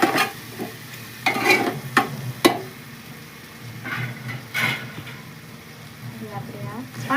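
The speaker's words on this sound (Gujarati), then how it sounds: "હવે આ બધી વસ્તુ આપણે સરસ આમ હલાવી નાખી." A spoon stirs rice mixed with sugar in a pot for a homestyle kadhi pulao, with soft scraping strokes and clinks against the metal alongside a faint sizzle, while someone talks over the cooking.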